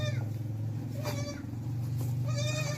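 A white Nagri goat on a milking goat farm in Pakistan bleats a few times, fairly close, over a steady low hum with no talk.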